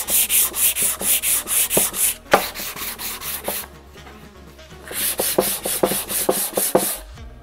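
Hand sanding of wood with 120-grit sandpaper for a bottle holder, rhythmic back-and-forth scraping strokes in quick even bursts, pausing briefly with a few knocks before resuming, close and alone.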